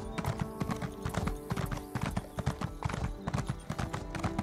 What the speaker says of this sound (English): Get on my horse, even though it's pretty slow.